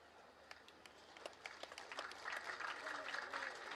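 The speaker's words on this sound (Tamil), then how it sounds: "இப்ப கைத்தட்டல் கூடுதலா வரும் பாருங்க." An audience at a Tamil speech by a speaker breaks into applause that starts as scattered claps and grows into dense, sustained clapping, heard from within the hall.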